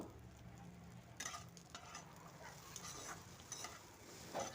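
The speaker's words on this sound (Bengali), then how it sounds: "গোবিন্দভোগ চাল এবার দিয়ে দিলাম একটু নেড়ে নেব ভালো করে" Gobindobhog rice being stirred in a pan with raisins and spices for sweet Bengali basanti pulao, giving soft scraping and a low background sizzle with occasional louder stirring strokes.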